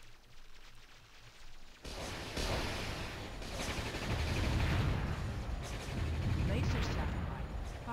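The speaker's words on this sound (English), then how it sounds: "Laser satellite firing." A laser satellite strike in the video game Warzone fires after a brief quiet start, opening into a loud, sustained roaring blast with crackling gunfire-like bursts that rumbles on to the end.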